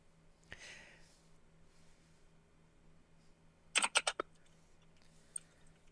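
A single click, then a quick burst of four or five sharp keyboard taps, close and crisp against a quiet background.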